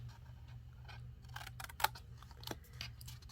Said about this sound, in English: I'm going to cut a little notch right here and completely remove this little rectangle.